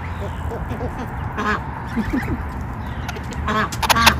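Farm ducks quack in short, scattered calls nearby, mixed with other fowl noise, while people talk over them.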